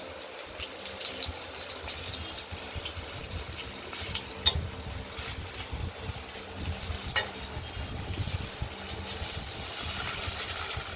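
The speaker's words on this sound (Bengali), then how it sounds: "আলুগুলোকে একটু ভালো করে ভাজা করে আমরা নেব, না হলে সেদ্ধ হবে না।" Potato pieces fry in a pan for a fish curry, giving a continuous busy sizzle with stirring clatter and a few louder knocks throughout. Close, with no speech.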